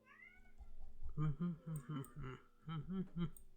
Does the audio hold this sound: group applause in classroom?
no